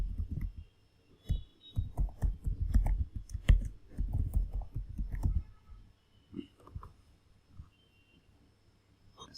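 A computer mouse clicks in a quick irregular cluster of close, crisp taps that thins out into a few scattered clicks and then quiet.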